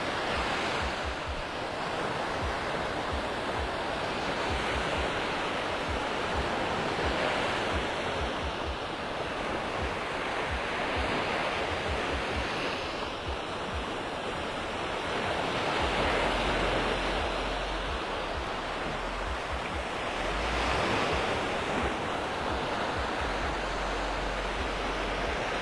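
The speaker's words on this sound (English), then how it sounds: "I'd let you listen to the sounds of the surf for a couple minutes" Ocean surf rolls onto Delnor-Wiggins beach in North Naples, Florida, at sunset: a continuous wash of breaking waves with some wind rumble in the microphone, steady and unbroken, with no voices.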